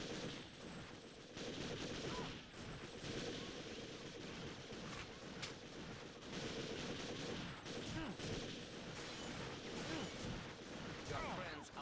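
Sustained gunfire from enemy guards in the video game Tomb Raider 2, dense bursts of shots and rapid machine-gun fire crackling continuously and loudly, with game character voices talking over it.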